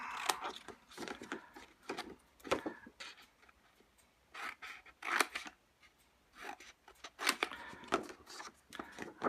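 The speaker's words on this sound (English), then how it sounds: "So I'll just cut the tabs." Scissors cutting the tabs of a cardboard box: repeated quiet snips and crisp crunching cuts in irregular bursts, close but faint, with no talking.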